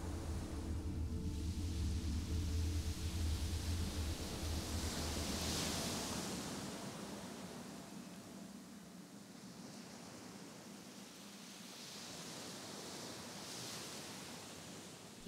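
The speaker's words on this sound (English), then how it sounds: "You hear the waves?" Ocean waves wash onto a beach as a steady, soft surf roar that swells and recedes in broad, slow surges, fairly faint and with no voices.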